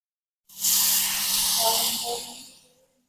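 A sudden loud hiss of food, likely tempeh, hitting hot oil, sizzling strongly close up before gradually fading; faint voices can be heard underneath.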